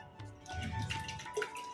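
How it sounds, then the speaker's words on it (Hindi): Water trickles and splashes into a vessel for churning homemade butter, a close, steady pour with dripping and a couple of brighter splashes, no voices. "इतना ही पानी डाल लो"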